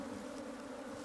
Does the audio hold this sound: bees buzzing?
yes